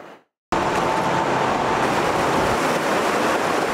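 The floodwater of the swollen Hockanum River in Vernon rushes in a loud, steady broadband roar that starts abruptly after a brief moment of quieter sound and continues unbroken to the end.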